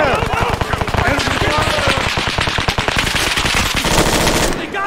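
Loud, rapid automatic gunfire in the military shooter Arma 3, a dense unbroken stream of sharp shots over about five seconds, heard up close and dropping off abruptly at the end.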